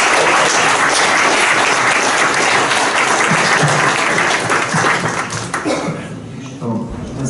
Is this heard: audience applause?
yes